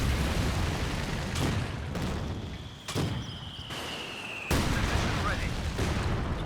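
Mortar shells landing in Company of Heroes 2, heard as several sharp explosive impacts, each rising abruptly out of steady rumbling battlefield noise, with one louder blast near the end; a thin whistle passes through the middle.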